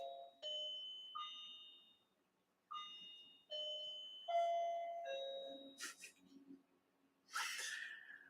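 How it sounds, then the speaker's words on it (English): A clock chime rings indoors, sounding a series of clear, sustained bell-like tones that fade between strikes, soft and slightly distant in a quiet room, with a brief breathy noise near the end. "the chime on my clock happens"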